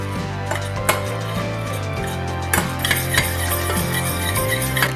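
A spoon scrapes and clinks around a pan in steady strokes, stirring a sauce over low heat, with a soft sizzle and low kitchen hum underneath; no voices.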